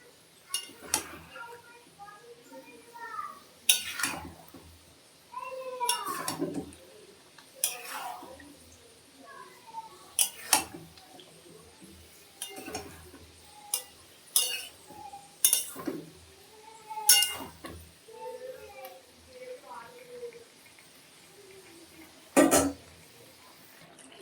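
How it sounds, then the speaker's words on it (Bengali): A spoon stirs chicken pieces in a cooking pot, producing intermittent metallic clinks and scrapes spaced several seconds apart over a quiet background. "এখন নেড়ে দেব চিকেনগুলোকে"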